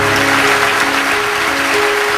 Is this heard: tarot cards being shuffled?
no